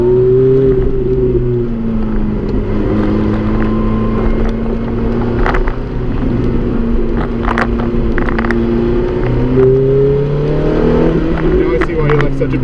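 Ferrari F430 or Porsche GT3 sports car on an autocross lap, its engine droning steadily with shifting harmonic pitch as it accelerates and eases, wind rushing over the microphone and a voice speaking over it.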